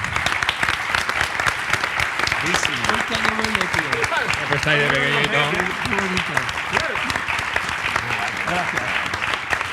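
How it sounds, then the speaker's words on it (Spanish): Loud audience applause fills a Spanish-language interview event with the duo Los Draps, sustained throughout while a few people speak briefly over it. "Un fuerte aplauso"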